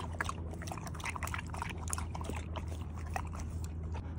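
Water poured for a dog at a park, a steady splashing trickle heard up close over low outdoor rumble, continuous for a few seconds.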